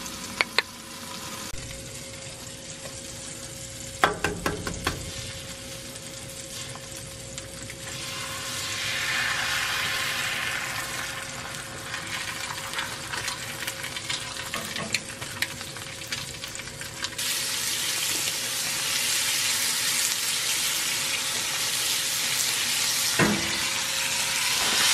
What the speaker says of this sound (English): More bacon going right there.